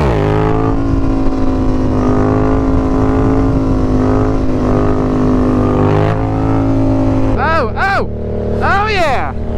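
A motorcycle engine throttling hard during wheelies roars loud and close with a steady droning pitch, then climbs in several sharp revving surges near the end, with faint voices partly buried beneath.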